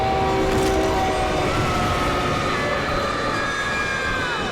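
A passing train in a film, a loud continuous rumbling roar with sustained tonal whine and horn-like notes that slowly drift downward as it goes by, no voices over it.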